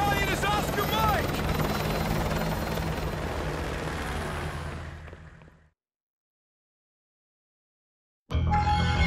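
A helicopter in the Call of Duty Modern Warfare 2 video game roars loudly and steadily with a thick rotor wash, then cuts to silence and returns abruptly at the end; a voice may be faintly mixed in.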